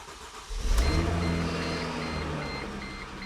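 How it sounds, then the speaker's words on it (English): A Mercedes C350 engine cranks and fires up after a fuel pump replacement, a sudden loud catch settling into a steady, close idle hum that continues to the end. "I do expect this to crank for a minute because the system was totally dry with all new parts"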